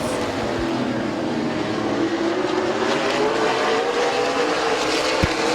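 Race cars at Midvale Speedway on the final lap, a loud, continuous engine roar from a pack of cars running together, with a sharp thump near the end.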